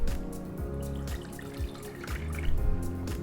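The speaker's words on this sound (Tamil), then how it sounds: "இந்த கறியை வந்து நல்லா வாஷ் பண்ணிகிட்ருக்கேன்" Water rinsing raw mutton pieces for a pepper masala curry: close, irregular splashes and drips as the meat is handled in water, with short gurgling bursts.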